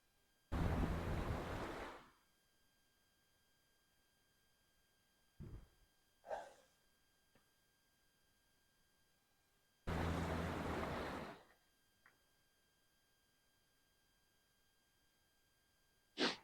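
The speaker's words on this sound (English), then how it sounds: "There is a lot of wave activity out there." Sea waves wash in during shoreline fishing under east winds. Two faint, separate surges of rushing water arrive about eight seconds apart, with small scattered noises between them and no voices.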